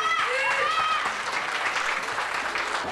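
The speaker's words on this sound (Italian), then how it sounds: "un grande applauso" An audience applauds at an award ceremony, a steady mass of clapping throughout, with faint voices and tonal sounds briefly overlapping near the start.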